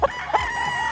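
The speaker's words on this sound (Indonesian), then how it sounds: "ini hasil ternakan ayam Filipin" A Filipino rooster crows on a farm, a close, loud drawn-out call after a couple of short clucks, with no talk.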